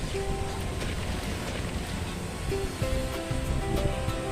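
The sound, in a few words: whirlpool waves in video game NTE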